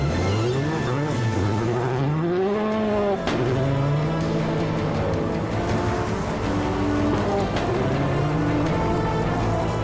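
Race cars driving in a short competitive race, engines revving up and down in rising and falling whines with occasional tire noise, loud and close throughout, no talking.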